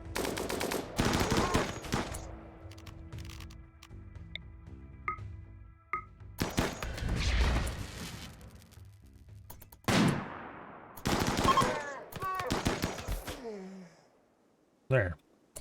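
Bursts of video game gunfire, some rapid and automatic, arrive in loud separated volleys with quiet gaps between them, mixed with game effects and a voice talking over parts of the action.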